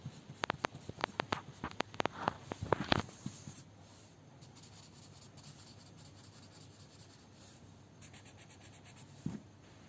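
A blending tool rubs over pencil shading on paper in quick, close scratchy strokes for the first few seconds, then the sound fades to faint soft rubbing, with one more brief stroke near the end.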